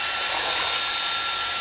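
A Twinny T5 hot air welding machine blows hot air in a loud, steady, close whoosh with a constant high whine, no change over the short span.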